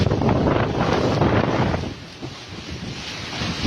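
During Typhoon Rolly on a seaside boulevard in Quezon, strong wind buffets the microphone while rough sea waves roar, loud and continuous at first, easing slightly midway.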